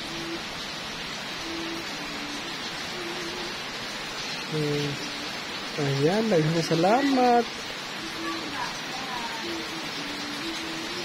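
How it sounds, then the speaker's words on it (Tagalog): Steady rain hisses softly in the background while a person speaks briefly over it, with a faint tonal hum running underneath. "So ulan na."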